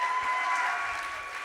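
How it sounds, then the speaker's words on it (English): A brief burst of audience applause at a LEAP Week talk, many hands clapping together at a steady, even level with no voices standing out. "Give Jasmine a big round of applause"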